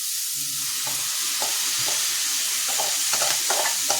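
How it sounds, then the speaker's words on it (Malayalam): Clam meat sizzles in a hot frying pan, a constant bright hiss broken by soft stirring knocks and scrapes, close up with no talking. "നമ്മൾ ഈ കക്കയിറച്ചിയും കൂടെ അതിലോട്ട് ഇട്ട് കൊടുക്കേ."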